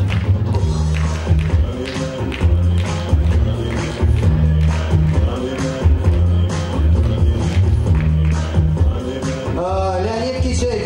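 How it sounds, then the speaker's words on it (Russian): Audience applause and cheering at a youth KVN comedy team festival on stage, a dense, loud crowd sound running throughout with a steady rhythmic beat of music underneath. "аплодисменты командам"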